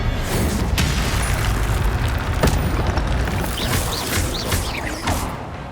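Dense, constant game-combat roar from Hogwarts Legacy with booming spell impacts and sharp bursts, a loud crackling whoosh near the middle as the Expelliarmus spell effect fires, layered with shimmering magical tails throughout.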